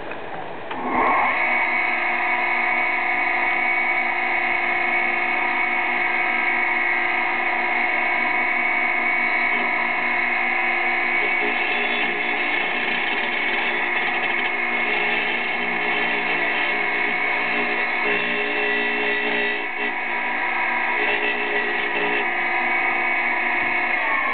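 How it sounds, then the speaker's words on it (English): A Dremel cutting through the deep stony skeleton of a large Favia coral gives a steady, close, high whine with a constant tonal hum, running unbroken throughout with no talk. "Now I'm going to take the Dremel to them and try to get through the rest of this skeleton."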